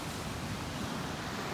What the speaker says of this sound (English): Those are freaking righteous waves, bro.